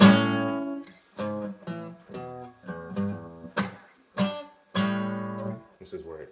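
Acoustic guitar plays a song intro alone, a run of bright, ringing strummed chords in short bursts with brief gaps between them, close and clear without any talking.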